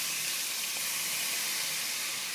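Balsamic vinegar hissing in a hot stainless pan just used to cook steak, a continuous even sizzle and steamy hiss at moderate level with no voices.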